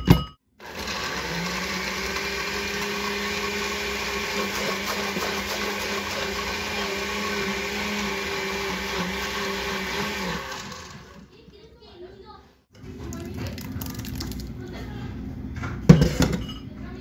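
A blender grinds a homemade salsa with salt for sopes in a home kitchen, running as a steady loud whir for about ten seconds before stopping, followed by quieter kitchen sounds and a brief clink.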